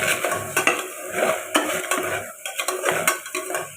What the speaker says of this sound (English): Mix them all together.